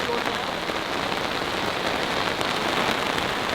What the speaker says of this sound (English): Just as the rain picks up.